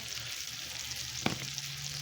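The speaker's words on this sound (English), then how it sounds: "your green beans over there being sauteed" Burgers, onions and green beans sauteing in a pan, giving a steady soft frying sizzle throughout, with a brief clink near the end.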